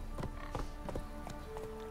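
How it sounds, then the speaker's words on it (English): Horse hooves galloping in the video game The Witcher 3, a quick run of rhythmic clip-clop hoofbeats over a steady game ambience, moderately loud. "Let's slowly gallop."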